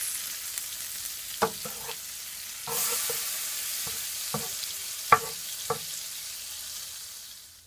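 Butter browning in a pan for honey glazed salmon, giving a steady soft sizzle broken by a handful of sharp clicks and taps of a utensil against the pan, heard close with no voices.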